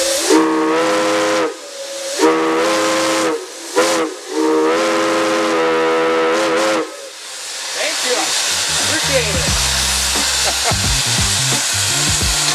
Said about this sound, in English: The whistle heard on the locomotive is a Lunkenheimer 3 chime